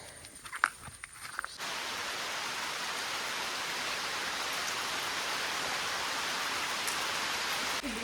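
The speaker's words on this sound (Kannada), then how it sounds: "ಗೈಸ್ ಮಳೆ ಬರ್ತಿದೆ" Rain pours down steadily near Bandaje Falls, a dense, even hiss that starts abruptly after a few seconds of quieter outdoor noise and carries on without a break.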